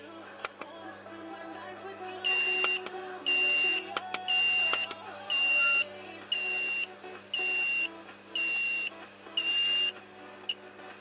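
A loud electronic buzzer alarm from a two-channel thermostat sounds in eight regular pulses of about half a second each, over a low steady hum, with faint clicks before it starts.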